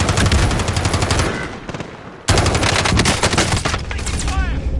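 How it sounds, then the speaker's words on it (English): Rapid machine-gun bursts and sustained gunfire in a shooter video game, loud and close, pausing briefly around two seconds before resuming in a sharp, intense volley. "I'm taking fire!"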